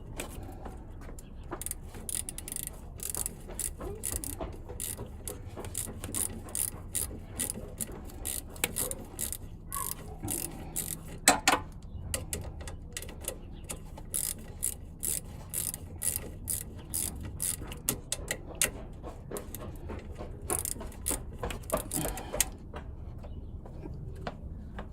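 Ratchet working a 12 mm bolt while an alternator is refitted on a 1996 Lexus LS400, with rapid clicking pawl bursts and mechanical clatter repeating steadily over a low garage hum, fairly close.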